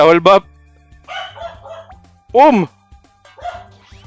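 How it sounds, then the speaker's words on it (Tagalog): A dog barks loudly and close by, a few sharp barks separated by pauses, with softer whining in between. "yung tahol na malakas"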